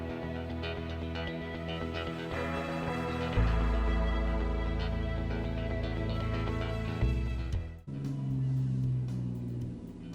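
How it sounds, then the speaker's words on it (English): A loud truck passes close by with a deep, rumbling roar that swells and fades over several seconds, heard under continuous background sound. "that was the loudest truck I ever heard."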